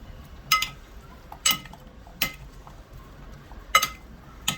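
A spoon clinks against a bowl while sliced potatoes are tossed with oil and salt, giving five sharp, separate chinks spaced about a second apart over quiet background.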